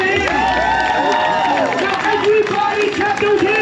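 Street crowd in Times Square cheering and clapping for street performers, a steady roar of voices and applause with people talking over it throughout.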